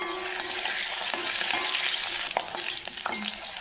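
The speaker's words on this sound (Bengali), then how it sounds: "আলুর টুকরোগুলো সামান্য একটু ভেজে নিয়ে" Potato pieces fry in oil with bay leaf and panch phoron, a close, crackling sizzle broken by clatters of stirring and scraping in the pan, and no talking.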